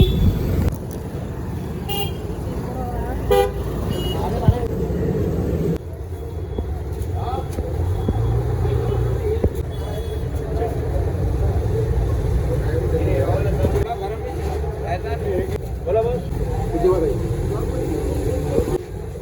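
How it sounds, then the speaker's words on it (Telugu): Busy Hyderabad road traffic with engines rumbling and car horns honking repeatedly, some near and loud, others farther off, under a continuous roadway din. "ట్రాఫిక్."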